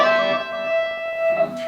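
Distorted electric guitars in a four-string rock lead harmony, a sustained layered chord with effects and reverb that holds steady before it shifts near the end.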